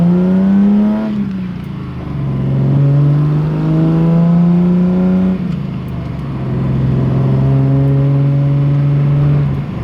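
A Datsun 280Z on new tires accelerates, its engine droning loud and steady with rising and falling pitch as it pulls through gears, no voices.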